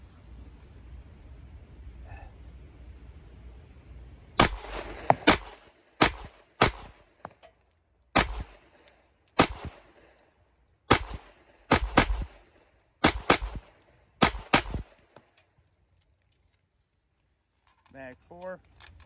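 A Shadow Systems CR920P pistol fires around a dozen loud, close, sharp shots at an irregular pace over about ten seconds, followed by quiet and a brief burst of speech at the end.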